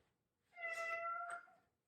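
A cat lets out one clear, drawn-out meow, close and moderately loud, rising and ending with a short upward inflection in an otherwise quiet room.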